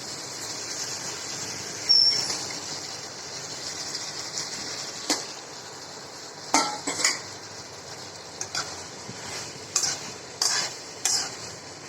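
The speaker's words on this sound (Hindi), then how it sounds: "तो ये देखिए अब मैं इसमें पनीर डाल दूँगी।" Paneer being stirred into capsicum frying in a pan gives a low sizzle under sharp, irregular clinks and scrapes of a spoon against the pan.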